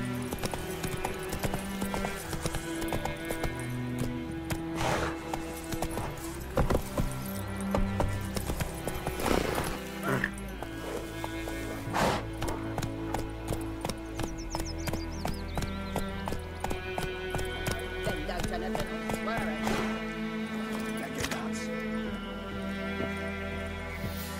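Hooves of Roach, Geralt's horse in The Witcher 3, clip-clop in a steady galloping rhythm close by, continuous over game music with an occasional faint whinny.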